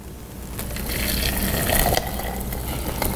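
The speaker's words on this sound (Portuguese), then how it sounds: "Vou vir com 1 litro de água fervente." Boiling water, about a liter, poured over a handful of washed pennyroyal and mint leaves to make tea, a steady close liquid rush that builds slightly and splashes on without pause.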